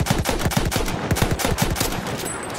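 Rapid bursts of automatic gunfire from the video game Battlefield 1, played on PlayStation 4, crack out in a quick rhythmic string of shots, loud and close, with no talking over them.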